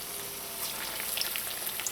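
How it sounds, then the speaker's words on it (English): Trinidadian rolled saheena frying in hot oil, giving a steady, fine crackling sizzle with scattered brighter pops that thicken slightly midway, heard close and alone without voices. "And then you put this into your oil to fry"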